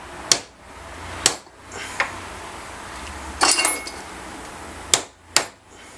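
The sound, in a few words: hammer tapping a Welch plug flat on an outboard carburetor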